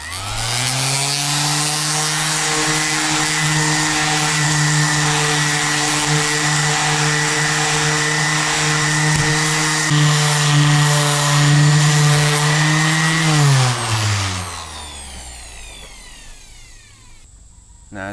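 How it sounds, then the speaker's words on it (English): DeWalt D26451 random orbit palm sander doing rough stock removal on cherry wood, a loud steady high-pitched whine with a constant hum that holds for about thirteen seconds, then winds down as the motor switches off. "I'm just going to do some rough removal on this circular right here, and just show you how loud it is"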